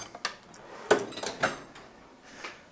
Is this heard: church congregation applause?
no